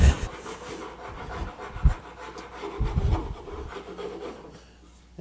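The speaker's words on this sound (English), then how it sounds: "I bring in the file. And the file just takes off that." A hand file rasping along a small wooden table leg, with close, uneven scraping strokes and a few heavier bumps and pauses between them.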